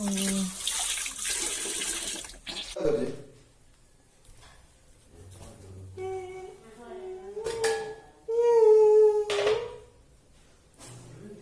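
Tap water runs while dishes are washed up in a home kitchen, a steady splashing hiss heard between stretches of close talking.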